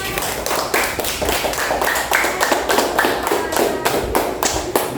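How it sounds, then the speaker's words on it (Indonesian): Classmates in a school classroom clap together in a steady rhythm, sharp unison claps falling about twice a second, close and loud throughout. "Tepuk tangan dulu teman-teman."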